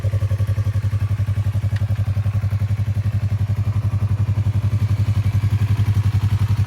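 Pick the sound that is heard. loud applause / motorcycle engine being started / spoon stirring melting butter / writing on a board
motorcycle engine being started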